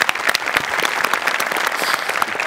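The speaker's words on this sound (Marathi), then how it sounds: "जोरदार टाळ्या." An audience at a comedy show breaks into dense, loud applause, rapid overlapping claps running steadily throughout.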